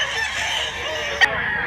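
At a chicken market in Mantalungon, Cebu, a rooster crows steadily at moderate distance, closing with a sharp brief click before the sound cuts off.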